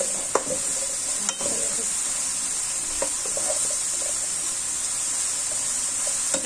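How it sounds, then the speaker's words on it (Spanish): Chicken and vegetable filling for stuffed peppers, seasoned with turmeric, ground garlic and adobo, is stirred in a hot pan, with a steady sizzle and a few scraping strokes of the utensil running through the whole stretch and no talking. "vamos a mezclar para que se cosa nuestro vegetal"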